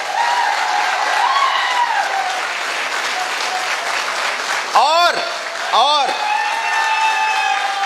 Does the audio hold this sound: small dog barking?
no